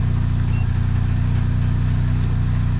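A car engine idles steadily during an onboard diagnostic scan, a low, even rumble with a regular pulsing throb that holds unchanged throughout, close and moderately loud with no talk.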